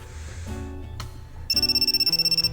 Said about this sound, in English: Oh, my cell phone is ringing.